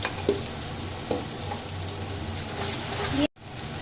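Ginger-garlic paste, red chili paste and onions frying for restaurant-style garlic chilli chicken, a steady close sizzle with a couple of soft knocks, cut by a brief silent gap near the end before resuming.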